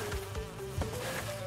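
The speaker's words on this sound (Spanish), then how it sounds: "Prefiero enfrentarme a las abejas de nuevo." Bees in Crash Bandicoot N-Sane Trilogy buzz with a close, steady drone whose pitch wavers and shifts as they swarm around.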